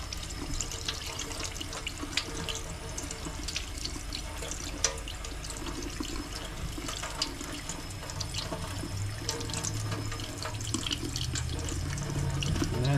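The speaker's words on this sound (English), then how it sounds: "Rinse it one more time." Tap water runs in a steady, close stream while stocked rainbow trout fillets are rinsed under it in a kitchen sink, an even rushing splash with no pauses.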